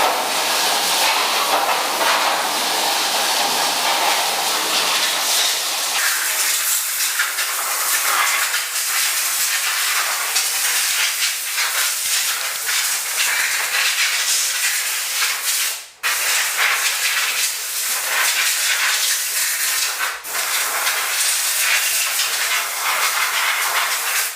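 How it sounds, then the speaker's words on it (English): Compressed air roars steadily from an air hose blasting a rinsed truck frame dry, a loud continuous hiss lasting throughout with two brief dropouts where the nozzle pauses. "we're going to go ahead and use the air hose to just blow it dry to help speed up the process"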